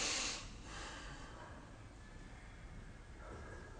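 A slow, soft exhale drifts out close and quiet during a relaxing guided breathing exercise, a faint airy hiss that tapers away with no talking.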